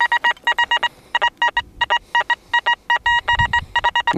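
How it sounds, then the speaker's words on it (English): An XP Deus metal detector sweeps over spread-out dump dirt, giving a rapid series of short, bright electronic beeps in irregular bursts, close and clear over faint rustling. "Then I'll take my detector and go over it"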